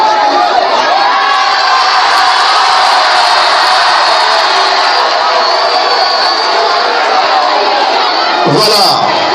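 A large crowd of school pupils cheers and shouts at a school event, a loud, dense, sustained roar of young voices that carries on without a break before a brief sharper sound at the end.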